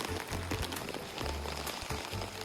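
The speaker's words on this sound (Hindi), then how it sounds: "तो अभी आप बारिश की आवाज सुन सकते हो कि कितनी तेज बारिश हो रही है।" Heavy rain pouring down outdoors in Japan, a loud, continuous hiss close by with a few low thuds mixed in.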